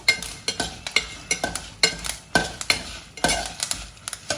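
Curry leaves crackle and spit in hot oil in a pan for Chettinad chicken curry, a steady close sizzle punctuated by sharp pops and bursts in uneven rhythm, with no voices.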